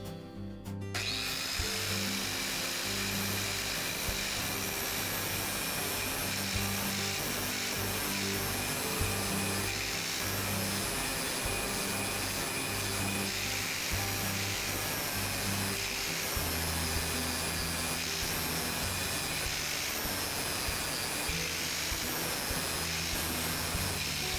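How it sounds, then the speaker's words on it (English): An angle grinder grinds across the bevel of a lawn mower blade, a loud, steady, continuous whine with a constant buzzing tone and no speech. "I'll hold the grinder in that position, turn it on, and grind across the bevel."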